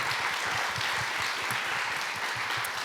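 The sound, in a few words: audience applause for panel of four women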